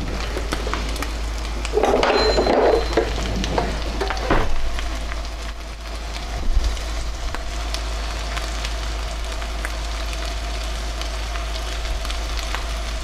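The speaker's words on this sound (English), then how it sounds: "We're going to put the pork down in there" Pork medallions go down into a hot pan, a steady soft sizzle carrying on with a louder burst of spitting early and a few brief clunks, no voices.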